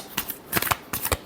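A brief close burst of tarot cards being shuffled, three quick papery riffles in a little over a second with no voice present.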